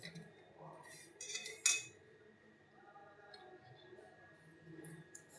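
A knife halving small gunda fruits on a plate in a home kitchen, making faint scattered clinks and taps of metal on dishware, a few sharper clicks standing out against quiet background.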